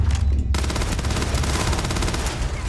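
Starfield gunfire: dense, rapid automatic shots hammer on continuously at close range and loud volume.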